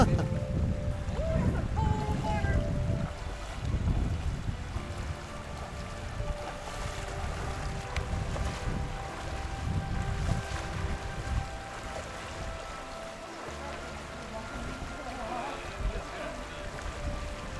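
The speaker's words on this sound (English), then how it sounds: "Here's where we got to cross the river." River water rushes steadily at a hiking trail crossing in Devils Den, Arkansas, a continuous broadband wash with gusty wind buffeting the microphone throughout.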